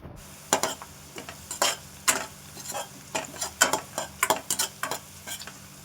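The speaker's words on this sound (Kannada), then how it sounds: "ಈರುಳ್ಳಿ ಚೆನ್ನಾಗಿ ಫ್ರೈ ಆಗ್ತಾ ಇದೆ" Chopped onions fry in oil in a kadai for veg fried rice, a steady close sizzle broken by repeated scraping stirs of a spatula, with no voices.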